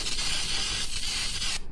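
Steady hiss of degreaser sprayed from a can onto the ground during a ZX-6R oil change, one continuous close spray that cuts off near the end.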